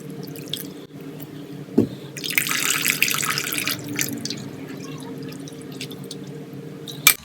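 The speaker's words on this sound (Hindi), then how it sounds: "तो मैं इसमें थोड़ा सा पानी और डालूंगी ऊपर से।" Water pours from a tap over raw ground meat being washed in a bowl. The splashing is steady and close, swells for a few seconds and then settles into a gentler running trickle.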